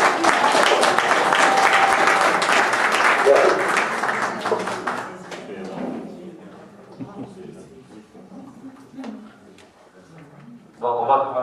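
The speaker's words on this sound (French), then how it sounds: "Donc, on va l'applaudir." Audience at a neighbourhood association general assembly in Toulon applauding their newly named federation president, a burst of clapping that fades after about five seconds into scattered claps and murmuring voices.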